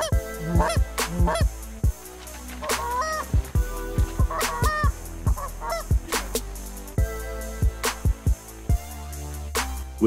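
Geese honk repeatedly overhead during a windy, freezing duck hunt in Kansas, a loud chorus of overlapping calls at an irregular rhythm, fairly close, with no talking.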